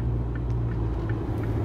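A diesel car engine held at around 3500 rpm on a motorway, a steady loud droning hum with a strong low rumble and no talk over it.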